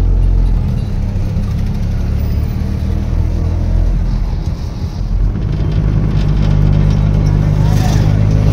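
A car travels steadily along the road to Bhimashankar temple, with a low continuous engine and road rumble, wind buffeting the microphone, and no distinct events across the stretch.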